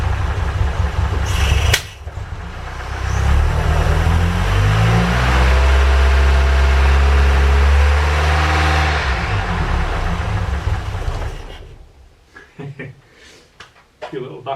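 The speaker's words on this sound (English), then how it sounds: "A few little backfires there" A Ford Capri Calypso engine runs loudly nearby after long storage, revving up and holding before dying away, with a few small backfire pops and people talking.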